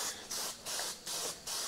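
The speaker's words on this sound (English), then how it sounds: "as you can see, I'm just giving it a coat of lacquer now" Spray can laying a coat of lacquer onto the rocker cover of a Vauxhall 2.0 Redtop engine, heard as four steady hissing bursts with short gaps between them, close and fairly loud, with no talking.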